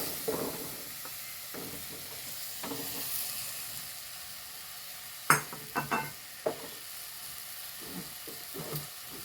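Chopped papaya going into a hot pan for a Kerala roasted-coconut curry, giving a soft steady sizzle with scattered stirring scrapes and a few sharper clatters from the utensil against the pan.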